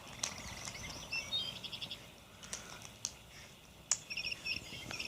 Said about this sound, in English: You like froggies, huh? And birdies.